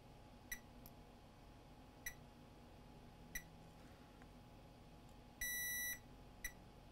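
A multimeter in diode mode gives faint, short beeps at irregular intervals while probing capacitors around a chip on an HP Spectre x360 laptop board, with one longer continuous tone among them over a quiet background hiss.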